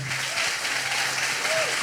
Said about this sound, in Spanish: fuerte aplauso para el equipo